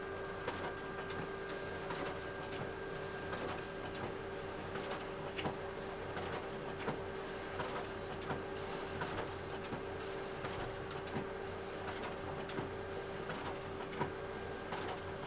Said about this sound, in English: And so then we save, and it'll automatically print